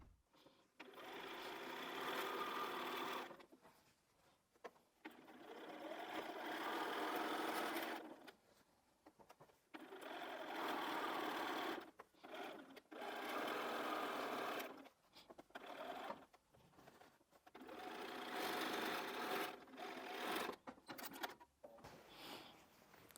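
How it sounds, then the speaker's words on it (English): Sewing machine stitching quilted Christmas tree skirt pieces, running in several sustained bursts of steady whirring separated by short pauses, close and clear with no talk. "So let's just sew that one and trim that one so you can just see that coming together."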